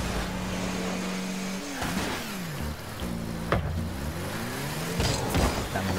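A car in the video game Rocket League boosts with its turbo, its synthetic engine whine rising and falling in sweeping revs over a steady hissing rush, with sharp game impact sounds.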